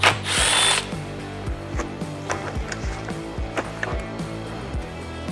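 A power drill runs hard on the 10mm bolts of an LX570's aluminum frame, starting with a loud whine and then settling into a steady, rhythmic ratcheting chatter with repeated clicks, close and alone.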